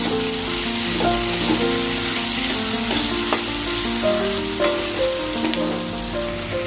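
Onions and jackfruit seeds frying in oil make a loud, dense, continuous sizzle with scattered pops and crackles throughout, with no talking over it.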